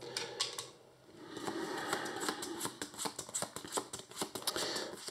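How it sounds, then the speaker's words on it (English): Marvel Champions playing cards being shuffled into an encounter deck, a steady run of crisp riffling snaps and flutters up close, with no voices. "So these get shuffled into the encounter deck"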